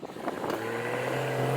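A BMW 440i accelerates hard, its engine note climbing steadily and growing louder across the whole stretch after a brief muffled thump at the start, heard from inside the car with no talking.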